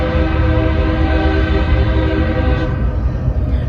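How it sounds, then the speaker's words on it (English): A big truck's horn on a nearby highway, a sustained, loud, train-like blast with layered tones, holding steady throughout over a low rumble. "Every time I hear that, I keep thinking it's a train, but it must be like a big old truck."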